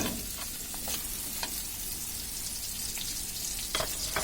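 Onion frying in a pan, a close, continuous sizzle broken by a few scraping clicks as it is stirred, with no voices.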